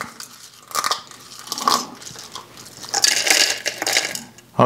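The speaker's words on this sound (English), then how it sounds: "It's also not bad to chew on." Crispy dried beef liver is chewed close to the microphone, giving repeated loud crunches and bites in an irregular rhythm with no talk.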